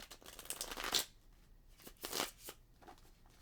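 Tarot cards being shuffled in a few quick riffling bursts, close and crisp, with short pauses between them.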